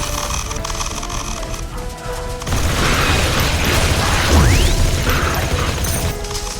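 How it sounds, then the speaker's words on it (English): Landmines being laid and weapons firing in The Riftbreaker, a dense mechanical clatter of clicks and pops over a continuous rumble, swelling louder halfway through, with a sweeping tone gliding downward near the end. "I'm just putting down landmines and I keep shooting."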